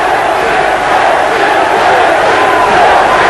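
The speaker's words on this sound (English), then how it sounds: "Thierry, Thierry, they're chanting." A ringside boxing crowd roars loudly and continuously in support of French fighter Thierry Jacob against Duke McKenzie, the dense cheering and chanting voices merged into a steady wall of sound.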